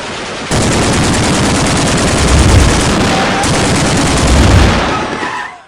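Dense, continuous bursts of automatic gunfire rattling rapidly for several seconds, loud and sustained with heavier booming swells partway through.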